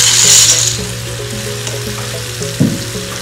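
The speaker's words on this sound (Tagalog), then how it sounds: "Lagyan na rin po natin yung carrots. And yung macaroni." Carrots and macaroni drop into a simmering pot of Tom Yum soup, a close, loud splash and bubbling sizzle at first, then a steady low simmer with a brief clunk near the end.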